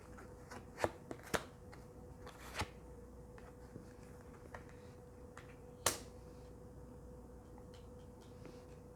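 Tarot cards handled and shuffled close by in a quiet room, with a few sharp snaps and flicks early on, one loud crisp slap midway, and soft rustling between.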